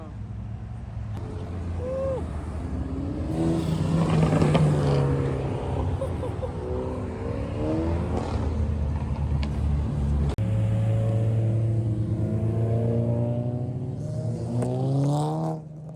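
A straight-piped Lamborghini SVJ revs on a busy main strip, its engine rising in pitch again and again among other traffic, while people talk nearby.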